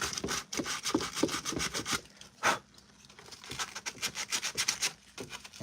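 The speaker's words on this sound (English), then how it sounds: "I don't hate sanding. I actually find it therapeutic." A Star Wars Purge Trooper armor prop is sanded by hand, with rhythmic back-and-forth rasping strokes, close and fairly loud, briefly pausing midway before resuming.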